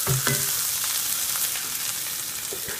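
Chicken sizzles and fries steadily in a hot pan as it browns, with a dense, continuous crackle and a few brief stirring knocks near the start.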